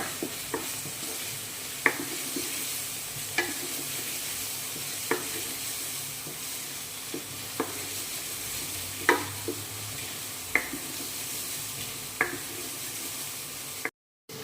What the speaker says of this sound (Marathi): लाल तिखट किचन किंग मसाला धनेपूड हळद चांगलं मिक्स करून घेऊ